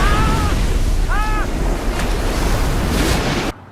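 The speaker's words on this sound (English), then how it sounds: "He turns on a tap and water pours down." Tap water pours down as a heavy torrent in a film scene, a loud, steady, broadband rush lasting about three and a half seconds, with faint whistling tones near the start, before cutting off abruptly.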